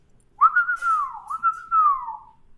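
A person whistles a single sustained, wavering tune lasting about two seconds, close and fairly loud, alone without talk.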